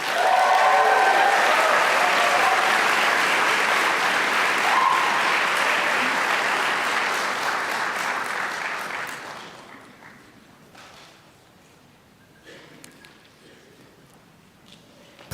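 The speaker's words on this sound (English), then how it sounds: "Please join me in one more round of applause for our PA class of 2023." Loud sustained applause from an audience for a physician assistant class of 2023 at a hooding and awards ceremony, dense clapping that fades out after about nine seconds, leaving a quiet room with faint scattered sounds.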